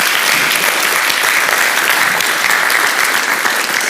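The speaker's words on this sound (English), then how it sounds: "I would like to thank the speakers once more with an applause" Audience at an anniversary celebration session applauding the speakers, a loud, dense, sustained burst of many hands clapping with no talk over it.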